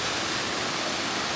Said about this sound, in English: the salt spring is flowing down from the cracking stones above